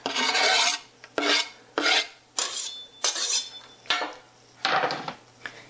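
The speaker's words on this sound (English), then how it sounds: "I'm going to add in the onions and the garlic." Onions and garlic are stirred in a pan, heard as close, loud, rhythmic scraping strokes of a utensil against the pan, about seven in a row with short pauses between them and no talk.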